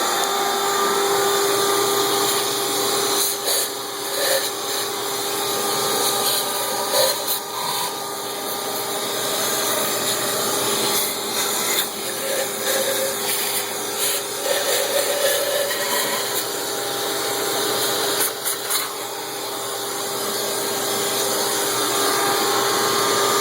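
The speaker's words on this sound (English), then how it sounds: "take a vacuum, shop vac, and vacuum all the ports out" A shop vac vacuums dust, sand and debris out of the intake ports of a Chevrolet/GMC Vortec engine, a steady loud whooshing roar with faint scraping of the nozzle, running without pause.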